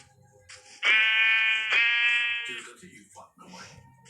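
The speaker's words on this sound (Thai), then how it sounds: "โอ้มีแกะอีกตัวหนึ่ง" Two long, loud, wavering bleats come from a nearby sheep, one right after the other, with quieter murmuring voices before and after.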